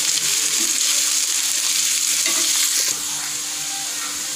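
Finely chopped capsicum sautés in hot oil on the stove for a tava burger, a loud, continuous close sizzle broken by soft scraping stirs, with no voices.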